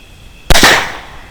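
A single sharp, loud 6.5 Grendel rifle shot fired at hogs during a night thermal hunt in a field, with a sudden crack followed by a brief decaying rumble.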